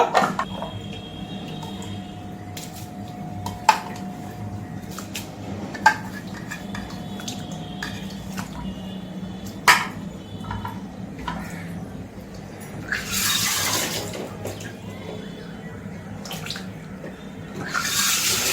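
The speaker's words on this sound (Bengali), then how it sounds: "জল পাল্টিয়ে তিনবারের মতন আমি ভালো করে ধুয়ে নিচ্ছি" Dried kachki fish being rinsed in fresh water in a kitchen, with steady faint water sloshing, a few sharp clinks of a bowl or utensils, and a brief louder splash near the end.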